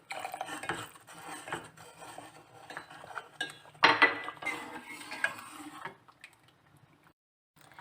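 A spoon stirs a tamarind and date chutney thickened with cornflour in a pot, with repeated soft scraping and clinking against the metal, fairly quiet and close, tapering off near the end.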